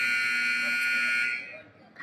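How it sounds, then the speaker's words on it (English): A long electronic buzzer sounds in a high school basketball gym before a boys' game, one sustained harsh tone for over a second, then cutting off into faint crowd murmur. "There's the buzzer."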